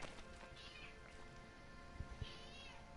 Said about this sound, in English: Cat wanted the door open.